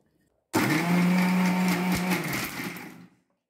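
A blender whirs loudly for about two and a half seconds, crushing custard apple with chilled milk into a shake, then cuts off. It runs as one steady burst with a strong low hum and a bright churning whine, and no one speaks over it.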